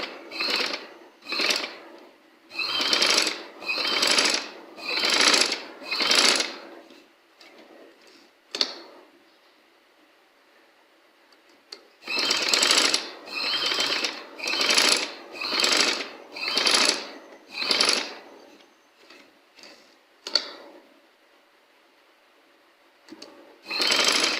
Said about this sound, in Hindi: तो नाज़रीन, एंड तक हमने इस तरीके से गोल सिलाई में सिलाई लगाकर